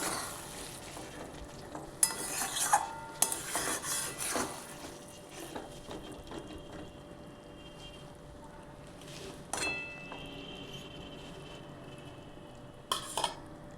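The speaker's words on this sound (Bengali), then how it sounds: "দেখো তেল ছেড়ে এসছে, মাংসটা ভালোভাবে কষা হয়ে গেছে।" Chicken curry meat fries in oil and is stirred in a pan, with a soft steady sizzle and several louder scraping clatters of a spoon against the metal pan.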